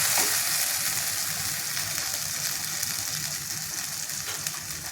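Mushroom masala sautéing in a pan gives a loud, continuous sizzle with a dense crackling hiss and faint stirring scrapes, steady from start to finish with no voices.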